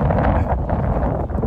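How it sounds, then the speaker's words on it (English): Cold wind on a windy morning at a goat pen, buffeting the microphone as a loud, steady low rumble throughout a short stretch, with no clear voices. "No, this wind sucks."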